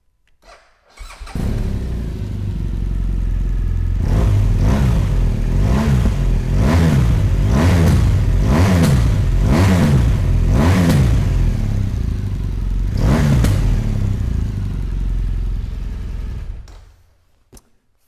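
A BMW R1200GS TE Exclusive adventure motorcycle engine starts and idles close by, then gives a series of quick rhythmic revs, one more blip later, and a steady idle before it cuts off.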